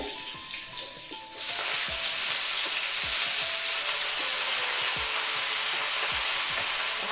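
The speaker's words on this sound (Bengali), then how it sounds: "যে পালং শাকগুলো এবার দিয়ে দেবো কড়াইয়ের মধ্যে" Spinach goes into a hot kadai of oil with black cumin, setting off a sudden loud sizzle that continues as a steady, crackling fry with occasional stirring scrapes, no one speaking.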